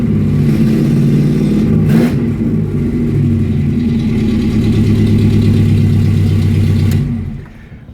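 A car engine with freshly retuned SU carburettors idles steadily and loud up close, a low rumbling hum that stays even before tapering off at the end, with no talk.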